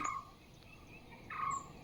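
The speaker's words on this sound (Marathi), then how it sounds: "हे बघा पक्ष्यांचा वगैरे आवाज वगैरे निसर्गाच्या सानिध्यात" Two short, rising bird calls about a second apart ring out over faint outdoor background noise in rural Konkan, near Sangameshwar.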